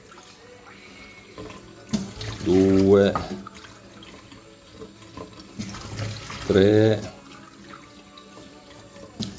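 Water runs from a tap into a container to dilute a bathroom-cleaning acid, a steady splashing flow under the sound of a woman counting in Italian, her voice rising over it twice.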